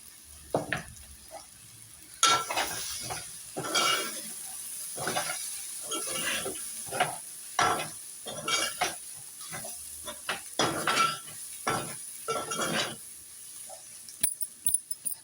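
A spoon stirs chili powder into dried fish curry in a pan, making irregular scraping and clinking strokes over a soft sizzle, close by and moderately loud.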